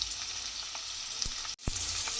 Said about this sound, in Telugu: ఫస్ట్ మనం ఒక పాన్ పెట్టుకొని ఆయిల్, తాలింపు గింజలు, ఆనియన్స్ వేసుకోవాలి